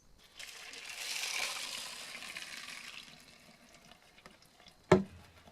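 Laundry waste water pours through a homemade sand filter in a soft, hissing, trickling rush that swells and fades over a few seconds, followed by a sharp knock near the end.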